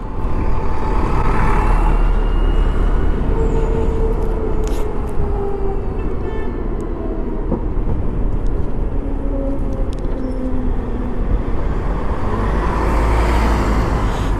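Heavy road traffic surrounds a BMW CE 04 electric scooter on a test ride, with a steady, loud rumble of cars and trucks and faint tonal hums drifting in and out throughout, and no talking.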